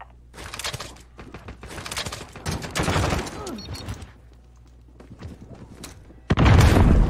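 Gunfire in Modern Warfare aimed at an enemy UAV overhead, with bursts of rapid shots and booms scattered throughout, ending in a loud close burst, amid game voices.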